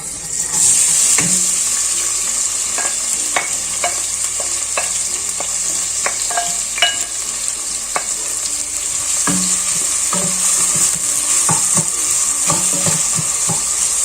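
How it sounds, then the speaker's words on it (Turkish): Loud, steady sizzle of onions and peppers frying in oil, with occasional stirring scrapes and clinks of a utensil in the pan. "soğanlar pembeleşinceye kadar kavuruyoruz"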